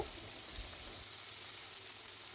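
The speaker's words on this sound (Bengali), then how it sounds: "তো আঁচটাকে লোতে রেখেই সব উপকরণগুলো দিয়ে ভালোভাবে কষিয়ে নেব" Spices, chilli powder, salt and ginger paste frying in oil over low heat for a soybean curry, a steady soft sizzle with faint stirring, no voices.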